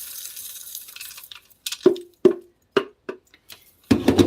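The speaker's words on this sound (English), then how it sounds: "I'm just going to pour it into this bowl here." Dehulled coffee beans poured from a container into a bowl, heard as a series of separate hollow clattering drops after a soft rustle, close and distinct with short gaps between pours.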